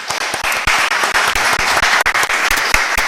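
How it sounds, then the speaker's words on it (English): Audience at a town board meeting breaks into steady applause, dense overlapping claps sustained for about three seconds with a few louder individual claps standing out near the front. "Can I clap? I feel like we should clap."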